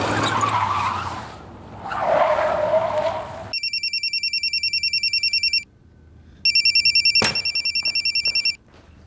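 A telephone rings in two loud bursts of rapid electronic trilling, following a screech of tires skidding, with a sharp click between rings and no voices.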